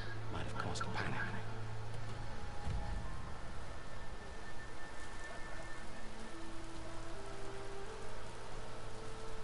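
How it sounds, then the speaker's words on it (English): Rain falls in a video game setting, a steady hiss of drops on surfaces heard close around, with a brief rumble early on and a voice speaking over the downpour. "you never seen rain before?"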